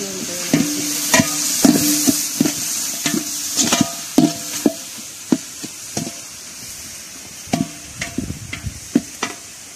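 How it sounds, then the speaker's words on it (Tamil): Onions, tomatoes and green chillies sauté in a pan for Mannargudi mutton biryani, a steady sizzle broken by frequent sharp scrapes and knocks of a spatula stirring at an uneven rhythm. "நல்லா எல்லாத்தையும் நல்லா வதக்கி விடுவோம்."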